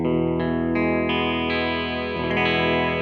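A Gibson Firebird I electric guitar is played with a pick through effects and distortion. Successive picked notes and chords ring out bright and sustained with a steady, loud level, and there is no talking.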